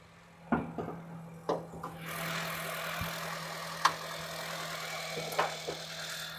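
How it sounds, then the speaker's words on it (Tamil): A vehicle engine idles with a steady low hum and broadband rumble, punctuated by several sharp knocks and clunks, no voices. "இந்த வண்டியோட இன்ஜின் நம்ம ஸ்டார்ட் பண்ணிட்டோம்"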